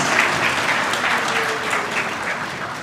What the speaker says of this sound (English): Can we have a round of applause for our graduates, please?